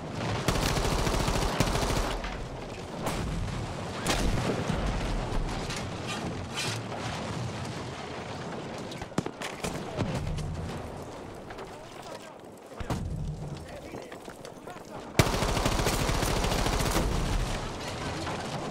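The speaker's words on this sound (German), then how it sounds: "Wer sprengt denn hier das Haus weg? Keine Ahnung, schießt mit dem Panzer hier rein." In Battlefield 5 on the Narvik map, a tank shells a house, setting off loud, dense blasts and rattling gunfire that keep going almost without a break, with deep booms and a sharp explosion near the end.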